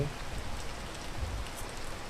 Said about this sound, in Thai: รอฝนตกเสร็จก่อน